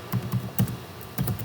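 Python code being typed on a computer keyboard: a quick run of close, crisp key taps in small clusters with brief pauses between them, no talking.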